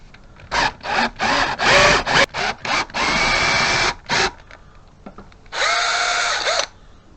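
Power drill boring an 8mm hole through a wooden block, heard as a series of loud close bursts of whining drilling, several short pulses then a longer steady run, a pause, and a final sustained burst.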